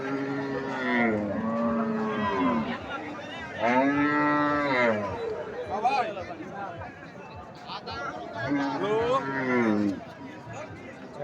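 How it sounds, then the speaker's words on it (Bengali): Sahiwal and Sindhi cattle mooing at a busy cattle market, several long, loud moos and bellows rising and falling one after another over a steady crowd chatter and nearby talk. "সাইওয়াল সিন্ধি সব ধরনের গরু পাওয়া যায়।"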